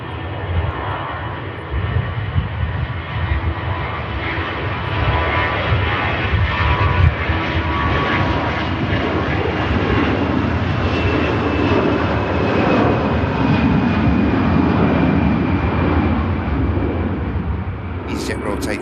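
An EasyJet jet airliner takes off at Manchester Airport as a loud, sustained engine roar, a broad rumble that builds and swells and holds across the whole span, while a person talks over it intermittently.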